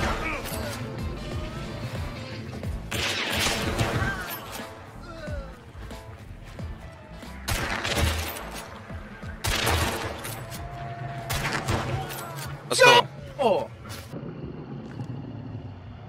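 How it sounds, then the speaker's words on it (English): Gunfire in Hunt: Showdown, with several bursts of shots and impacts spread across a tense firefight, under steady voice chat among players. "Aaron, he's shooting me."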